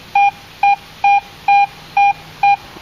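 A Garrett AT Pro metal detector in Pro mode gives six evenly spaced, loud high-pitched beeps about half a second apart, each clean and steady, over a faint background hum with no talking.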